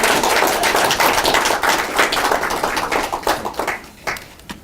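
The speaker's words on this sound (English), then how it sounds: "Can we give him a round of applause?" Audience applause fills a lecture hall at a talk on automation, jobs and the future of work in Seoul, a steady dense clatter of many hands that thins and fades toward the end.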